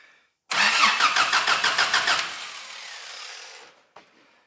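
A Daihatsu Rocky engine cranks on ignition in a quick run of rhythmic starter pulses that fade into a fading whir, followed by a brief click.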